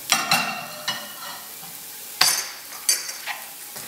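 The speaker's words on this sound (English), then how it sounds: "And we're gonna cook this until it browns." Food for a breakfast burrito frying in a pan, a soft continuous sizzle broken by a few sharp clinks and scrapes of a utensil against the pan, close and without talk.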